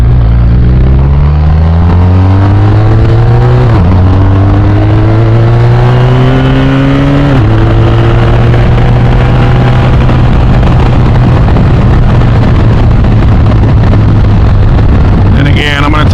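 A BMW R 1250 RT motorcycle riding through turns, its engine droning loud and close with rising pitch as it accelerates through the gears, under heavy wind rush.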